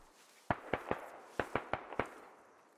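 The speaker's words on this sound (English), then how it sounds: "More shots being received in Silent's direction" Gunshots aimed at a player in a Squad Ops operation: two clusters of sharp, fairly faint cracks, three then five, each snapping out with a short decay in an otherwise quiet scene.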